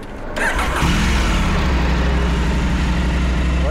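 A motorcycle engine catches and settles into a steady, loud, close idle rumble, heard during rally training with no talk over it.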